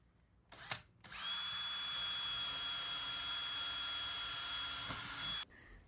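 A power drill whines at a steady high pitch for about four seconds, boring pilot holes into a wooden bee nuc box during renovation, starting and stopping abruptly, close and fairly loud with no talking.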